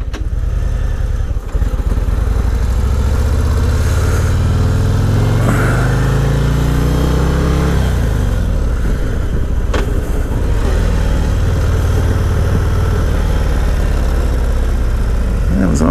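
Harley-Davidson Road Glide ST motorcycle out on a ride: the engine is loud and steady throughout, climbs audibly in pitch through the gears as it accelerates, and carries continuous road and wind rumble.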